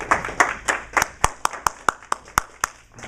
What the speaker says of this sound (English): Give our contestants a round of applause